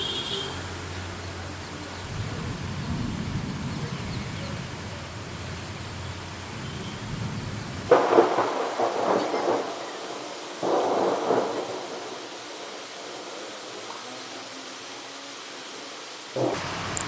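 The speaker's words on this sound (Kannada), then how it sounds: "ಮಳೆ ಮಳೆ ಬರ್ತಾ ಉಂಟು, ಜೋರು ಗಾಳಿ ಮಳೆ" Steady heavy rain hisses with gusts of strong wind and a low thunder rumble in the first half. The sound then shifts to a brighter rain noise with bursts of louder downpour, and no one speaks.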